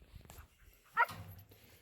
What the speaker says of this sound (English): Alright, we've got our dogs.